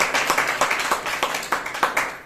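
A congregation clapping hands together in a church gathering, a brisk run of sharp rhythmic claps, close and fairly loud, over a couple of seconds without talking.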